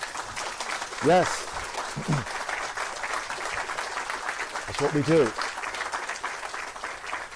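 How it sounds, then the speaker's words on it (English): Audience applause rings out at a college installation ceremony for a new principal at Homerton College, steady clapping throughout with a voice speaking over it at moments. "Young leaders, give them a round of applause."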